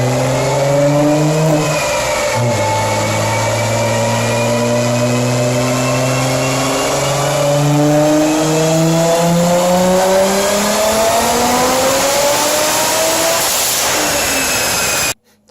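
A tuned Audi B5 S4 with an 034 plug-and-play kit revs hard on a dyno, rising loud and steady through the gears in one long sustained pull before cutting off at the end.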